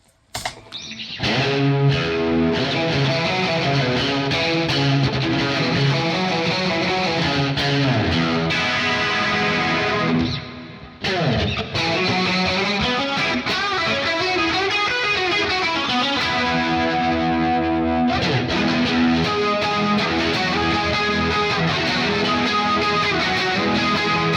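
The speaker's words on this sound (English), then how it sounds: "If you switch over to the cassette setting, you get this crazy kind of 90s-ish distortion thing" Heavily distorted, warbling guitar chords through a pedal's cassette setting, with a 90s-style lo-fi, tape-like wobble, play loud and continuously, briefly dropping out near the middle before resuming.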